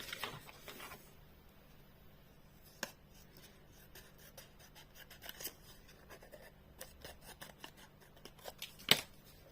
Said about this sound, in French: on va couper comme ceci